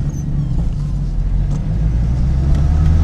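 TVR Griffith 430 engine revving, a loud, deep, continuous rumble close by, steady with slight swells in intensity and no talking.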